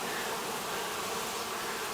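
A dense, steady hum of honey bees buzzing at a hive after a swarm fills every moment, close and even, with no voices.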